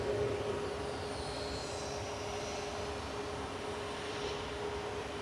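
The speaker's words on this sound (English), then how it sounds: "Ryanair lined up in front of us, off to Dublin" A Ryanair Boeing 737 MAX 8 departing Manchester Airport for Dublin: a steady, broad jet engine roar held at an even level throughout, with no voices.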